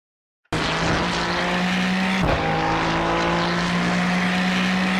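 A GT3 race car lapping Fuji without the chicane in the iRacing sim. The engine cuts in abruptly and holds a loud, steady high drone close up, with a brief shift-like dip midway, and no talk.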